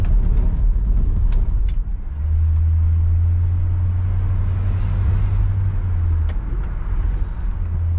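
Driving down a winter neighborhood road, a 1966 Ford Galaxie 500 convertible gives off a steady, close engine hum that deepens into a sustained low drone while tire and road noise continues underneath; no one talks.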